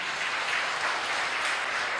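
A church congregation applauds in praise after a sermon, a short, even wash of many hands clapping at moderate loudness.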